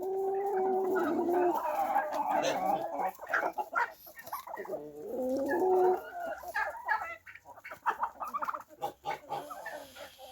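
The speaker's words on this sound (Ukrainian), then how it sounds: "Індики ось дивіться, як їдять" Turkeys and other farm poultry feeding on scattered grain, with nearby clucking, gobbling calls and scattered pecking clicks, busy at first and then thinning into sparse sounds.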